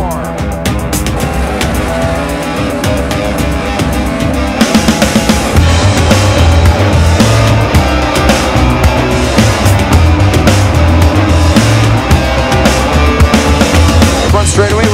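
INEX Legends race cars roar out of turn four on an oval track, a loud, dense engine drone with rising and falling tones that swells and continues throughout the lap.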